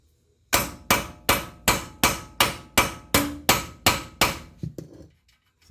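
Hammer blows strike a nut threaded on a bolt, about ten sharp, evenly spaced metallic whacks close up, each ringing briefly, before a couple of softer knocks and a quiet tail.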